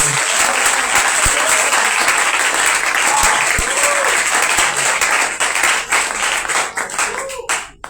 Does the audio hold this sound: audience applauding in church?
yes